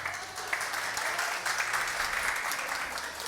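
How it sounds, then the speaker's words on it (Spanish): Steady applause from a class or lecture audience, a dense even patter of clapping held for a few seconds without talk. "Un aplauso, un aplauso"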